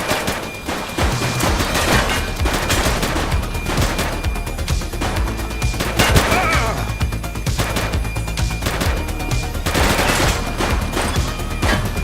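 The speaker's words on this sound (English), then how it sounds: "Shots fired!" Dense gunfire in The Precinct, a top-down police action game: rapid overlapping shots and bursts pound almost without a break. The fire is loud and close, with almost no talk.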